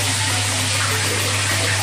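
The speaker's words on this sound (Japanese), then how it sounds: "こっちにはシャワーがあってね、すごい水圧、水圧がめちゃくちゃ強いの" Hotel room shower at a resort in Izu Shimoda, Shizuoka, running with strong water pressure, a steady loud hiss of spray with no pause.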